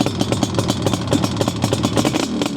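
A restored Yamaha RD350LC two-stroke twin motorcycle with aftermarket pipes runs close by, its rapid uneven popping exhaust pulses burbling at idle throughout the short stretch, no talking.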